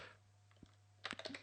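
Typing in Firefox on a Windows virtual machine: a quiet pause and a single tap, then a quick burst of several close, light keyboard clicks at the end.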